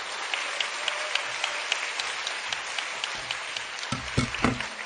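Applause welcoming a pastor at a church youth-department worship service, a steady crowd patter lasting throughout, with a few louder, closer claps near the end.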